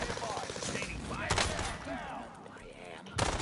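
Gunfire in the video game Call of Duty, rapid bursts and sharp shots crackling in the mix, with voices talking over the shooting.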